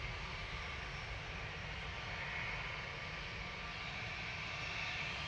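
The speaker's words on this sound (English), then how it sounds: "And we've got Ryanair coming in." A Ryanair airliner arriving at Manchester Airport sends a steady, distant engine roar, a constant broad rumble with no talk over it.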